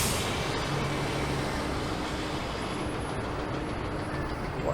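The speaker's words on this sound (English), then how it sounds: "Looks like an old coach bus." An old coach bus rolls past on a downtown Toronto street near Union Station, a steady loud rumble of engine and tyres filling the whole stretch, no talk over it.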